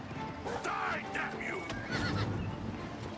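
A horse whinnies in the Oblivion Remastered video game, a couple of fairly faint neighs over soft hoof clops, with a person talking over them.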